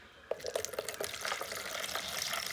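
Leftover rib cooking juice pours into a bowl, giving a soft, close trickle with small splashes and drips over a few seconds, with no talking.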